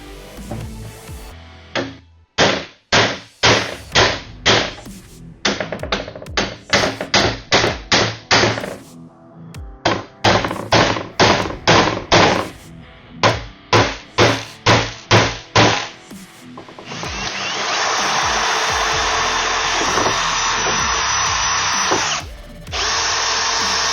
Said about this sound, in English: now I'm going to have to drill these 4 holes with my brand new bit